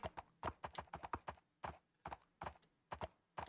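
Horse hooves clip-clop steadily while riding across a Minecraft savanna, a quick irregular trotting rhythm of many close, distinct thuds with no talk over them.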